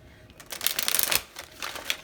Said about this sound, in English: Shuffle one more time.